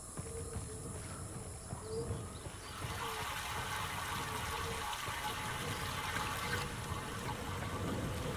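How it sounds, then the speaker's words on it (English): Pipe water flowing in Channelwood Age of the game Myst: a continuous rushing and gushing stream that swells and grows denser partway through, steady and fairly close, with no talk. "we can hear the pipe water flowing"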